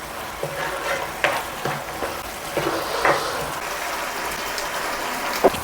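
A spoon stirs chili sauce into simmering vegetable manchurian gravy in a pan, giving a soft bubbling sizzle broken by a few scraping knocks of the utensil against the pan, with no talk.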